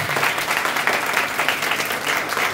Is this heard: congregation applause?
yes